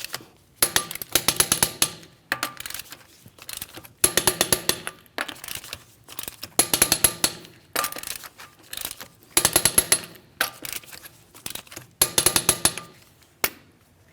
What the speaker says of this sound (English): We're going to torque these to that 100 foot-pounds in a crisscross manner.